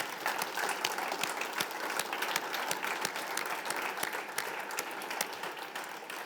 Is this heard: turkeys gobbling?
no